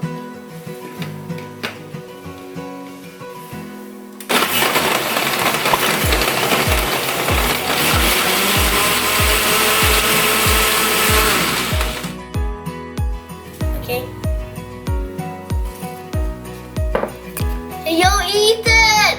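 Kitchen blender whirring loudly through a smoothie made with almond milk, a steady roar of about eight seconds between quieter stretches with clicks and clatter of the machine before and after.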